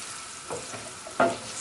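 A spoon stirs oregano and red pepper into a sizzling vegan okra and chickpea curry, giving a few brief scrapes over a soft frying hiss.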